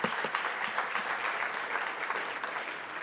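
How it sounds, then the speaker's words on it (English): A conference audience at a national manufacturing event applauds a film just shown, with dense, steady clapping that fills the room at an even level throughout. "Can we give that a round of applause?"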